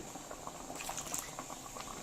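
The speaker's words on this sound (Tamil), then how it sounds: "இது நல்லா இப்போ இந்த கடலைப்பருப்பெல்லாம் பச்சை வாடை போகிற அளவுக்கு நல்லா கொதிக்கட்டும்" A pot of chana dal bubbles at a steady simmer, soft popping and gurgling blending into a continuous low boil, with no voices.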